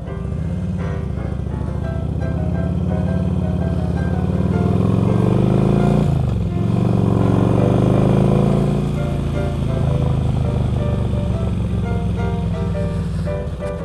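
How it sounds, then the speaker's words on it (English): A Harley motorcycle's exhaust runs close and loud for about fourteen seconds, a deep, steady throbbing rumble that swells briefly around the middle as the engine picks up a little, with no one speaking. "see if I can let you hear the exhaust a little bit here."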